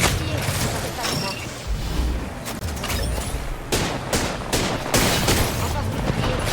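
Rapid bursts of gunfire from the battle-royale video game Apex Legends, dense and continuous with sharp repeated shots and booms, with players' voices talking over the fighting.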